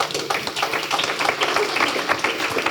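An audience applauds for Roxanne Varza at an AWS Startup Day opening at Station F, a dense, steady crowd clapping that fills the room without pause.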